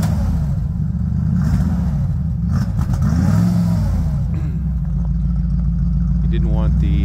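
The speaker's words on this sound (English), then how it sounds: "Dad's just giving it some gas here." A Bombardier wide-gauge machine's engine revving in cold weather after a cold start, a loud, close, steady low rumble that swells once in the middle before settling back.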